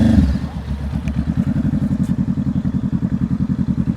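A motorcycle engine idles and putters at low speed through tight practice turns, a close, steady rhythmic thumping pulse with light clatter and no revving.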